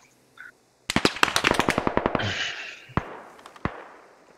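Heavy machine gun fire in the video game Squad on the Gorodok map, a rapid burst of about a dozen loud, sharp shots in quick rhythm, followed by a hissing blast and a few scattered single cracks.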